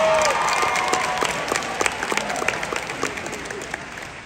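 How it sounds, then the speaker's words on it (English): Audience at a high school graduation ceremony applauding a graduating student, a full crowd clapping with scattered sharp individual claps and faint cheers, opening with a brief whistle, then gradually thinning toward the end. "Let's clap it up for her."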